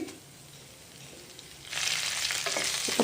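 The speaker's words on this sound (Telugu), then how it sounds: "కలుపుతూ ఫ్రై చేసుకోవాలి" Ivy gourd (dondakaya) with cumin and curry leaves stir-fries in a pan, a soft sizzle that grows suddenly louder midway into a steady close crackle with small stirring scrapes.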